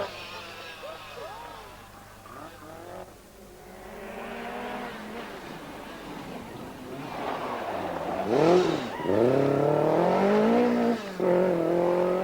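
A Lancia rally car on a stage of the 1983 Circuit of Ireland rally, its engine note rising and falling as it drives past, growing louder toward the end, with a voice talking over the early part.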